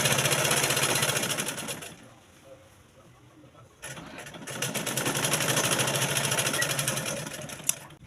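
A sewing machine sews the seat seams of a salwar, running loud and continuous with a brief pause near the middle before the stitching resumes at full pace.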